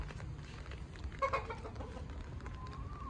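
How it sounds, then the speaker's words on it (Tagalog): Chickens cluck softly in the background on a farm, with a few brief calls over a low steady outdoor rumble. "Mga to mga manok."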